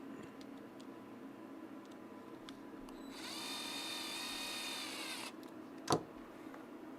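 Power drill driving small set screws with the torque setting turned down during a Tekno SCT410SL RC truck build, one steady whirring run of about two seconds followed by a single sharp click, close and fairly quiet.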